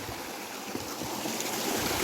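A small waterfall in Kashmir runs in a steady, broadband rush of falling water, close and continuous with no pauses, filling the whole stretch without any voices over it.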